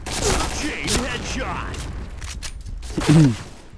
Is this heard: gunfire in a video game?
yes